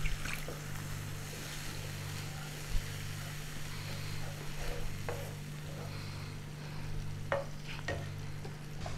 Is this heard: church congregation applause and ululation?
no